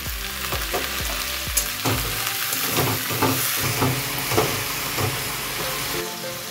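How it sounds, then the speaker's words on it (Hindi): Chopped tomatoes with turmeric and salt fry in a pan, a steady loud sizzle with repeated scraping stirs and clacks throughout. "अब इसमें हम डाल देंगे टमाटर कटा हुआ डाल देंगे इसमें हल्दी और नमक स्वाद अनुसार"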